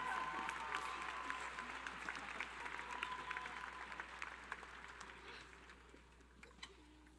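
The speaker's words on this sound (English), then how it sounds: "Please, a round of applause for their talent and beautiful rendition." An audience at a high school graduation ceremony applauds a choir, a soft, distant wash of clapping that slowly fades.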